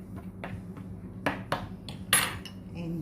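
A fork or utensil pricks holes in rolled homemade pizza dough, giving a handful of sharp, separate taps and clinks against the pan at uneven intervals, close and fairly quiet.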